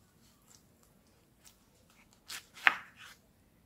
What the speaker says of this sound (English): so I'll go ahead and cut this into four